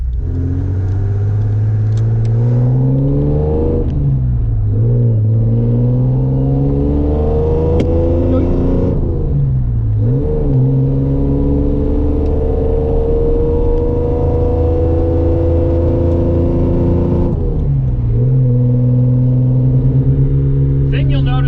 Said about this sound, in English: how well it revs up, and just how prominent the power is